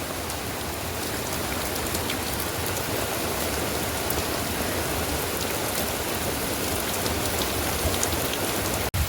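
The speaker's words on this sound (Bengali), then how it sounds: "বাইরে সাংঘাতিক পরিমাণে বৃষ্টি হচ্ছে" A sudden downpour of heavy rain drums outside in a constant, even roar for the whole stretch, moderately loud, with a brief knock at the very end and no voices.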